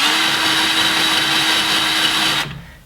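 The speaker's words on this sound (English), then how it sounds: "You can use a larger drill bit and just get it started right there" A power drill with a larger bit whines steadily into metal to start a small dimple for a slider install, a loud close continuous buzz that cuts off abruptly near the end.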